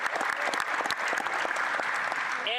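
Parliament members applaud during a federal budget speech in Canada's House of Commons, a dense, steady roar of many hands clapping that fills the whole stretch, loud and continuous.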